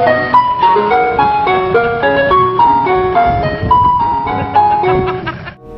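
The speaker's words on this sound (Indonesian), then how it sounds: "Yang ini ada mobil es krim." Toy ice cream truck playing its tinny electronic jingle, a bright repeating melody, loud and close, continuing for several seconds with no talk over it.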